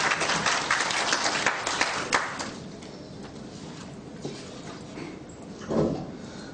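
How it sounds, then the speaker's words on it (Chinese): Audience applause welcoming a speaker at an education forum, a dense wash of clapping that swells early then thins and fades, with a brief final burst. "掌声欢迎邱文正邱老师"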